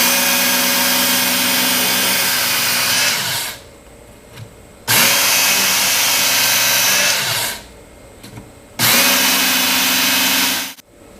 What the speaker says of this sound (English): you don't want to take it through many times through the sharpener